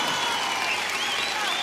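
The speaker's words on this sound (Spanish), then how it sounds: "un aplauso más grande para Tonka," Applause from a large festival audience at the Viña del Mar Festival 2007 final night, dense, loud and continuous throughout with crowd noise mixed in.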